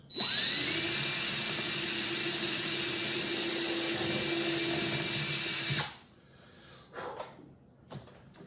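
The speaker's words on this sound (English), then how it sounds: "So I'm going to drill the hole for the piezo strip first." A loud, steady high-pitched power drill whine drilling a hole for a piezo strip in an Ibanez guitar saddle runs for about six seconds, then stops, followed by faint clicks and handling noises.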